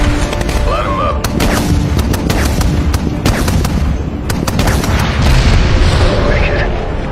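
Air strike explosions in a Transformers (2007) film battle scene, a dense barrage of loud booming blasts and crackling bursts that roll continuously, with radio chatter mixed in.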